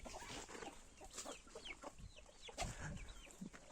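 Chickens clucking close by, a mix of short clucks and squawks overlapping in a busy, low-level barnyard chatter.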